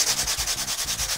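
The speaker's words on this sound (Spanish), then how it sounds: "una vez que está seco, vamos a trabajar lijando" Light sanding of acrylic-painted leather on a handbag, quick back-and-forth rubbing strokes in a steady rhythm, close and fairly loud with a raspy hiss on each pass.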